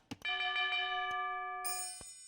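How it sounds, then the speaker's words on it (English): Town bell chimes in Age of Empires during a match, sounding as a loud, clear struck tone that rings on, then a second, higher chime struck near the end, with a few soft clicks and no talking. "Oh, we got the bell rung."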